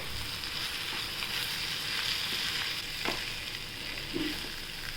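Soaked poha being sautéed in green masala in a pan, a steady close sizzle with occasional stirring scrapes and clicks throughout.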